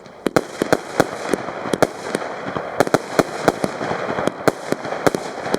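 A Metal Box PXC220 firework cake firing a rapid string of sharp, loud cracking shots at an uneven but quick rhythm, each report followed by brief crackle, heard close with no talk.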